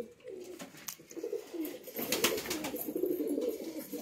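Pigeons coo in a cage kept outdoors in the sun, their low, throaty calls rising and repeating close by over faint background rustling.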